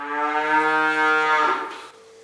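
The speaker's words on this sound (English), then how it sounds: "A cow is about to give birth." A cow in a barn, about to give birth, lets out one long, loud, close moo lasting over a second, then fades into quieter barn background.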